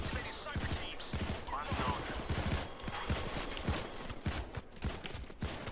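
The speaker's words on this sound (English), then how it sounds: "People shooting at me." Enemy gunfire in the heist video game Payday 2, during a biker heist: dense, rapid volleys of shots crackle continuously, mixed with game noise and a steady rumble.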